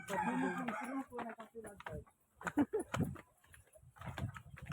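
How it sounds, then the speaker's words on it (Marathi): A rooster crows loudly and close, followed by scattered clucking, with people talking briefly in the background. "कोंबडी येत असते इकडे. वाज बघ."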